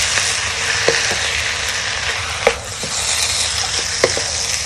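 Tofu fried rice hissing steadily in a hot pan over high flame, a constant loud sizzle broken by a few sharp clinks of the spatula tossing the rice.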